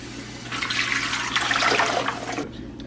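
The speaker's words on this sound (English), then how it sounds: "we have our 3 quarts of water in our pressure canner" Water pours from a tap into a pressure canner, three quarts for this model, as a loud continuous rushing splash in a kitchen that cuts off abruptly near the end.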